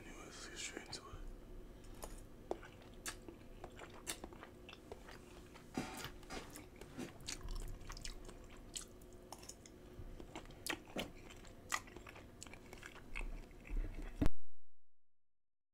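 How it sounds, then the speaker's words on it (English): Spaghetti and meatballs are eaten close to the microphone, with repeated wet chewing, squishing and biting sounds in an irregular rhythm and faint whispering in between, ending abruptly. "ASMR spaghetti and meatballs."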